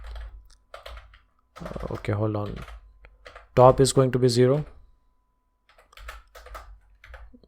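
Computer keyboard typing comes in quick clusters of light clicks between and beneath a man's speech, close and moderately loud, with pauses as he talks.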